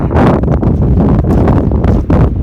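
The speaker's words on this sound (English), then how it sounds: "it's windy. Don't know if you can hear me." Loud, rough wind buffeting the microphone in steady gusts at a cemetery in Manassa, Colorado, drowning out other sound.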